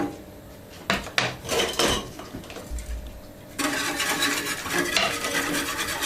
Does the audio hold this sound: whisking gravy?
yes